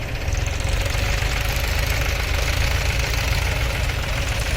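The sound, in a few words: John Deere 5105 tractor engine straining, stuck in mud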